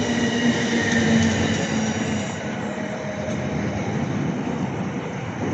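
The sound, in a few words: Class 455 train at Clapham Junction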